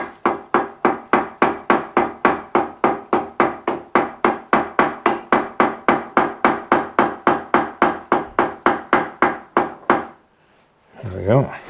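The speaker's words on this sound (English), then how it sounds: "so I'm just going to tap the right side over." Rapid, steady hammer taps bend sheet metal over on a bending brake, about forty loud, ringing metallic hits at an even rhythm, then a short pause and a brief burst of speech.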